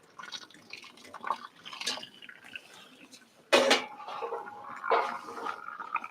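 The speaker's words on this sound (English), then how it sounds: "we're going to take some of the hot water, and I'm just going to rinse it out a little bit" Hot water rinses a metal Chemex-style coffee filter, with soft drips and splashes that build to a louder burst of running water midway, then settle into a steady trickle with faint clinks.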